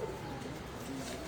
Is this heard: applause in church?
no